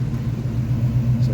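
A 1987 GMC R1500 Sierra Classic pickup idles with a steady, smooth low rumble from its V8 engine, even and unbroken at close range with no talking over it.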